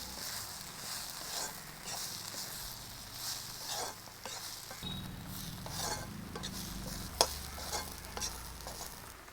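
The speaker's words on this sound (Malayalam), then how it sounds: "ഇതിലേക്ക് പാവയ്ക്ക അരിഞ്ഞ് ചേർക്കാം" Lengthwise-sliced, half-steamed bitter gourd dropped into fried masala paste, sizzling steadily in the pan while a spoon stirs and scrapes, with a few sharp metal clinks and no voices.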